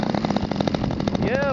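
Small 50cc gas engine on a Laminar Sukhoi RC airplane starting up, a brief loud buzzing burst of rapid engine pulses heard up close.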